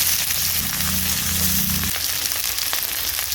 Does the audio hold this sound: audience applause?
no